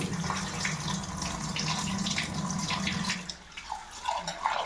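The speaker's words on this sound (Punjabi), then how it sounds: "ਇਹਨੂੰ ਦੋ ਵਾਰੀ ਵਧੀਆ ਸਾਫ਼ ਪਾਣੀ ਵਿੱਚ ਧੋ ਲਓ" An ingredient being rinsed in clean water by hand, with steady close sloshing and splashing that runs continuously, then drops to quieter, intermittent trickles and drips near the end.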